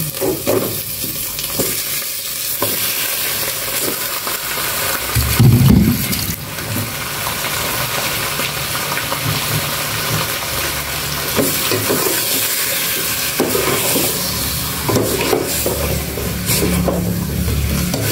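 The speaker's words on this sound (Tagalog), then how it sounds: "Igisa po natin maigi yung lalabas yung mantika." Chicken sautéing in hot oil in a pan, a continuous loud sizzle with repeated stirring scrapes and a brief heavier clatter near the middle, no voices.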